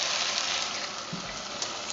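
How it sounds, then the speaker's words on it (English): Water poured into a pot of pepper chicken, a steady broadband rush of liquid running continuously at close range with no voices over it. "we're now going to add some water"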